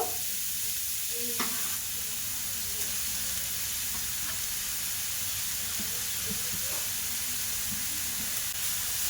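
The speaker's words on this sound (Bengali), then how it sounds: "দিয়ে এবার ভালো করে একটু কষিয়ে নেব গাজরটা" Grated carrot frying in hot ghee in a pan, a continuous bright sizzle and hiss with occasional scraping taps as it is stirred, no talking.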